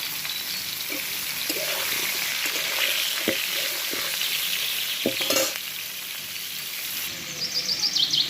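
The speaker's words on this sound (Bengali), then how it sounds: "আমি কিন্তু কপিগুলো দিয়ে দিলাম আর এই তেলের মধ্যেই আমি কিন্তু ভেজে নেব" Cauliflower florets frying in oil left over from frying duck eggs, a steady close sizzle broken by occasional stirring clinks and scrapes in the pan.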